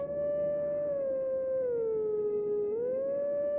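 In The Legend of Zelda: Twilight Princess, a wolf gives one long sustained howl, its pitch sagging slowly in the middle and rising again at the end, loud and alone over a faint background hum.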